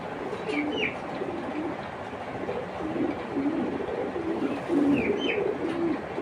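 White grizzle racing pigeon hen cooing in repeated soft, low coos over steady background bird chatter and faint ambient noise, with no talking.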